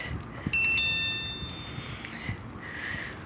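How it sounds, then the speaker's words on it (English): A bicycle bell gives a few small, bright chimes in quick succession near the start, with soft wind noise around them and a faint ring again later. "it sounds like Tinkerbell's visiting me with those little chimes"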